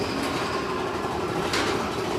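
Big Thunder Mountain roller coaster train at Walt Disney World rumbling along its track, a steady close clatter and roar with a brief brighter screech midway.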